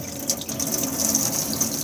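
Water runs from a motorhome sink tap at good pressure, a steady close-up hiss and splash.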